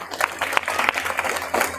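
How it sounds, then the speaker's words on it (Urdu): Scattered hand clapping from a small audience at a children's quiz competition, a light patter of uneven claps lasting under two seconds with faint voices mixed in. "تالیاں"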